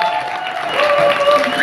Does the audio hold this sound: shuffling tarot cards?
no